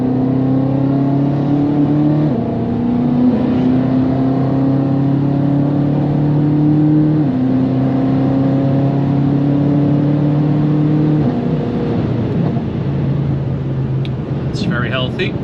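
A BMW M5 F90 engine pulls hard under partial throttle, heard from inside the car as a steady, loud drone that steps down in pitch through several gear changes with no talk over it.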